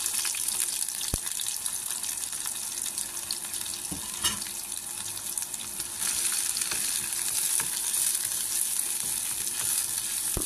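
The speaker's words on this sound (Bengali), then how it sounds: "তেল গরম হয়ে গেছে, আমি কাঁচামরিচ, পেঁয়াজ," Green chillies, onion and garlic hit hot oil and fry with a loud, steady sizzle and hiss, broken by a few sharp pops and stirring sounds, close up and with no voices.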